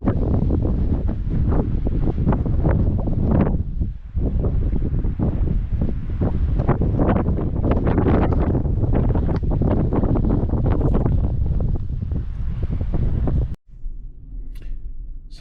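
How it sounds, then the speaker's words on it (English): A strong southerly wind buffets the microphone at a seaside boat ramp, loud and continuous with gusty roaring bursts and surf beneath, dropping abruptly to a quieter rush near the end. "Big southerly, so going left to right on your screen"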